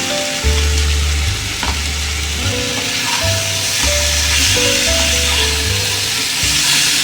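Crab fried with oil, salt and turmeric sizzles and hisses steadily in a hot pan, loud and close, with a rhythmic low stirring or scraping pulse underneath.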